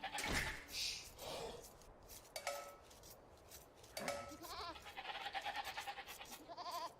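A goat in Age of Empires II bleats repeatedly in short wavering calls, near and fairly clear, over faint clinking and light background game sounds, with no talking.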